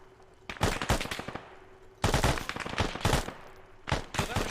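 Machine gun fire in a military video game rattles in three rapid bursts of sharp, close shots separated by short pauses.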